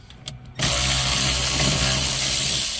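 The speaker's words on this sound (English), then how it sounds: "We're using 7mm bolt socket to remove the lower knee panel" A socket tool works on the bolts of a Ram 3500's lower knee panel, starting with a few light clicks and then breaking into a loud, sustained mechanical whirring that stays close until the end.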